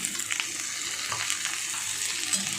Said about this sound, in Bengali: আলুর সাথে ভাজতে ভাজতে পেঁয়াজটাও ভাজা হয়ে যাবে।